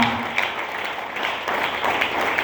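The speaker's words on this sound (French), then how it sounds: "vous pouvez applaudir l'Esprit de Dieu." Church congregation applauding during a service, dense sustained clapping from many people filling the space, loud and continuous with slight swells.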